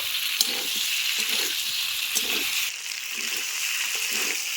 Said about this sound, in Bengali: ফুলকপি আলু দিয়ে আবারও কিন্তু ভালো করে মশলার সঙ্গে কষিয়ে নেব।